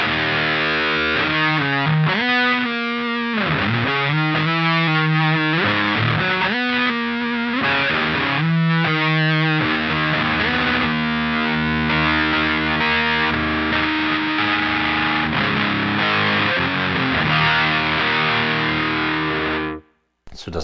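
Electric guitar played through a Digitech DF-7 distortion pedal, a thick fuzzy distorted tone with sustained chords and riffs running continuously for about twenty seconds, loud and upfront, cutting off abruptly at the end.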